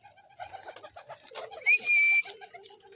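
Pigeons call close by in short, soft coos, with a brief clear whistled note rising over them midway.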